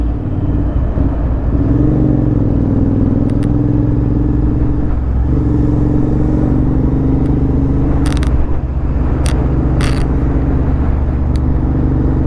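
A road vehicle's engine drones loud and close while overtaking a line of trucks on the Pantura coastal highway in Java, a steady rumbling roar with brief bursts of passing traffic noise.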